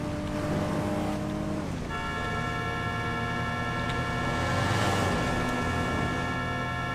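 Race car engine in GTA 5 drones steadily and loudly, its pitch shifting as it changes gear, with no voices over it.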